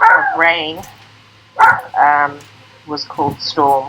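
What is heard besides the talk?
dogs barking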